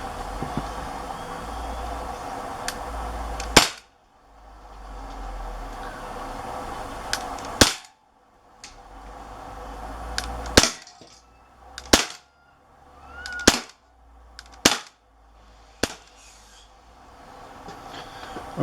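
Umarex Walther PPQ .177 CO2 pellet pistol firing, a string of sharp close cracks at irregular intervals, each followed by a brief hiss of gas, with quiet gaps between shots.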